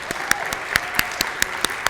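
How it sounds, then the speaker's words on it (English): A small audience at a family medical conference claps steadily, scattered sharp hand claps repeating throughout, moderately close, with faint voices underneath. "So let's give a round of applause to her."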